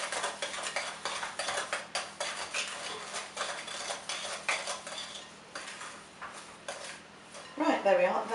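A spoon stirs vanilla extract into chocolate cake batter in a bowl, with repeated close clinks and scrapes in an irregular rhythm and a louder clatter near the end.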